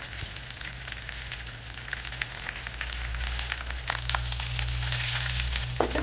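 Mustard seeds, curry leaves and cinnamon sizzle and crackle in hot oil for a Sri Lankan pineapple curry, a dense continuous frying hiss with popping that grows louder toward the end.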